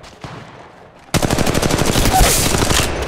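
Rapid automatic gunfire from a video game shooter, Apex Legends Mobile, bursts in loud and sustained after a quiet second, a dense rattling stream of shots continuing to the end.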